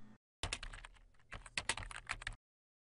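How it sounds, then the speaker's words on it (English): Realistic computer keyboard typing sound effect for After Effects: a fast burst of crisp key clicks after a short pause, with one brief break midway, played alone and close with no talk. "it's basically this realistic typing effect"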